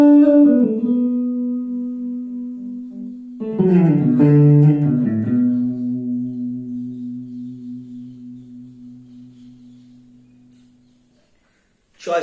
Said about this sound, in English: But you can apply slow vibrato on same idea.